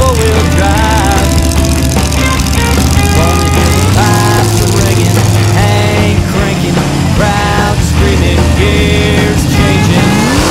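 A four-wheel-drive truck engine running hard at a mud bog event, a loud continuous roar that rises and falls as it revs and changes gears, with crowd noise mixed in.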